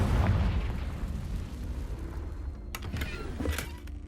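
A Confringo fire spell bursts in Hogwarts Legacy, a loud booming blast with a rumbling tail, followed by a few crackling pops as the explosion fades.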